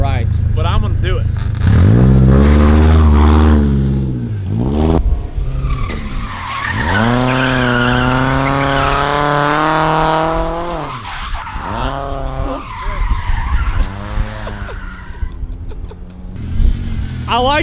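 A 1.9-liter BMW Z3 with an automatic gearbox drifts on a winter surface, its engine surging and its tires squealing and skidding in loud bursts, with talking mixed in.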